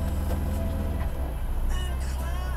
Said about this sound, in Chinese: 引擎转速、引擎声音有稍微变一下，但是它还是在很稳定的状态